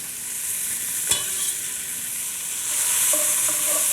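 Onions, carrots and celery sauté in olive oil in a pot with thyme, bay leaf and peppercorns, giving a steady close hissing sizzle that grows louder near the end, with a single soft knock partway through.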